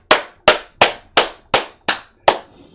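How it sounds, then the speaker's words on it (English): Seven sharp hand claps sounding as a stream viewer alert, loud and close, evenly spaced about every third of a second with crisp decaying tails and no voices. "Give him the claps."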